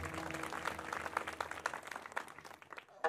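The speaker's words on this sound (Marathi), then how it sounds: "ह्या तरुण मंडळीसाठी, कमिटी मंडळीसाठी एकदा जोरदार टाळ्या वाजवा" Crowd applause at a kirtan during a Shivjayanti gathering, a faint, distant patter of many hands clapping steadily, ending with a brief louder burst.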